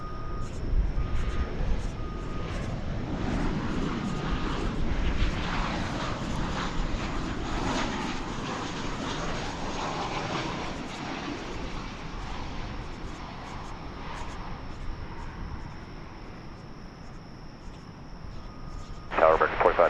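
An American Airlines Boeing 737-800 arriving at DFW airport from Greensboro, a steady broad jet engine roar held for most of the span, easing off near the end, with talk over it.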